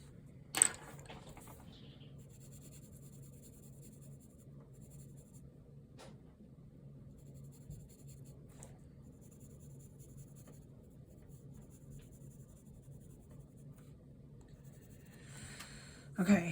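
Graphite pencil shading on paper for a Bargue A3 drawing exercise, a soft continuous scratchy rubbing that runs steadily close up, with a couple of sharp taps near the start and end.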